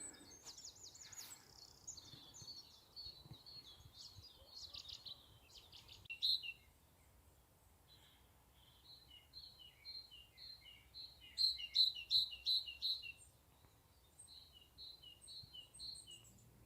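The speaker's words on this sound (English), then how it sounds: "Two birds chatting to each other." Two birds trade high chirping calls back and forth, thin and somewhat distant over quiet outdoor background, with bursts of quick repeated notes.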